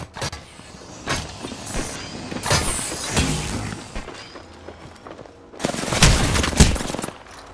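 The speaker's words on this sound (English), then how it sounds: "Listen up, I'm getting shot at." Gunfire in the Apex Legends battle game, loud sharp bursts and single shots in irregular clusters, with a heavy sustained volley near the end.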